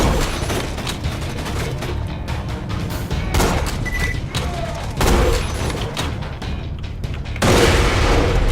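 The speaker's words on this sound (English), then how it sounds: "See if I can shoot through that hole." Gunfire in the video game Borderlands 2, heavy booming shots and rapid bursts layered over a thick rumble, loud throughout with sudden surges, and a voice briefly heard.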